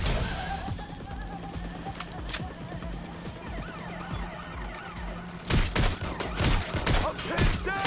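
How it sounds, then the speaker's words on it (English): Rapid gunfire rattles through a Watch Dogs: Legion firefight in bursts of sharp shots that grow denser and louder toward the end, mixed with shouting voices and busy game noise. "I'm pinned down! Careful! Shot fired!"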